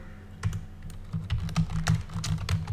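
Rapid, uneven clicking of keys on a computer keyboard while text is typed into an HTML editor, close and fairly quiet, running steadily with brief pauses and no talking.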